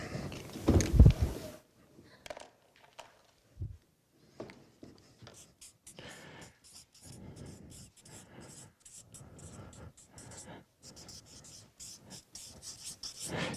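Pen writing notes by hand on paper, with short scratchy strokes in bursts after a louder handling noise at the start.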